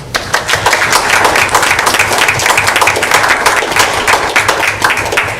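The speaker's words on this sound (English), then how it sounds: "One last applause." Audience applause at a board meeting: dense, steady clapping from a roomful of people for about five seconds, loud and close, with no talk over it.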